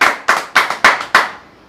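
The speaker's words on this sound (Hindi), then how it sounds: "आपके स्क्रीन के ऊपर क्वेश्चन देने से पहले हम दर्शकों से चाहेंगे कि एक बार इनको ताली से स्वागत किया" Audience clapping on a quiz show, five or six distinct loud claps in a sharp, slightly uneven rhythm, each with a short tail, fading out at the end.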